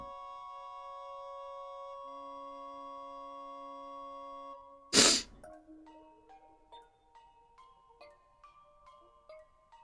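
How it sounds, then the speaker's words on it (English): A single sharp human sneeze bursts out loudly midway, following a sustained electronic game-music chord and followed by soft plucked game tones; the sneeze is blamed on heavy cat hair in an apartment. "Blame the copious amounts of cat hair in my apartment for me accidentally sneezing."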